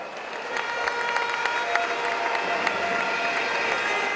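A crowd at a 2014 Santo Domingo beauty pageant gives strong, sustained applause to welcome a renowned plastic surgeon, a steady dense wash of many clapping hands with faint crowd murmur.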